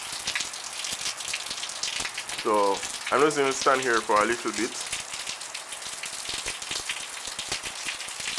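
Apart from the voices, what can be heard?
rain falling during Hurricane Matthew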